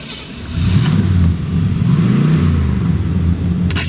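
A 1971 Oldsmobile Cutlass Supreme convertible, original with Cadillac mufflers, settles into a low, rumbling idle after starting, its deep engine drone close and steady with slight rises in revs.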